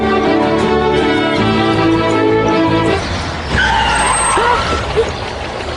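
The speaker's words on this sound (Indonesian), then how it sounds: "Canda yang hendak pulang ke rumah hampir ditabrak oleh sebuah mobil" A car skids hard, its tyres squealing loudly over a steady engine tone for about three seconds, then a noisier scuffle of road sound follows as it nearly hits a woman heading home.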